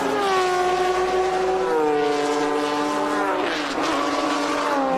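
Vintage race cars, a black Porsche running close behind a BMW through the corkscrew at a road course, roar loudly past with strong harmonic engine tones that shift pitch as they pass, alone without talk.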